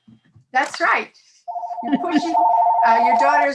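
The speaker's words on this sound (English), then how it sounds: "I'm sorry, that's my phone, just ignore it" A mobile phone rings with a steady electronic tone that starts partway through and keeps going, loud and close, while people keep talking over it.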